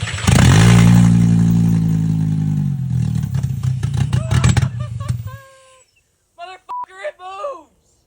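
A Mk2 Volkswagen GTI fitted with a 5-cylinder engine drives under its own power for the first time, a loud close engine roar that settles, breaks into clattering and stops, followed by short excited voices.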